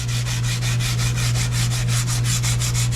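Rhythmic back-and-forth scraping of 80 grit sandpaper folded by hand against the edges of a brake pad, fast regular strokes over a steady low hum, close and loud.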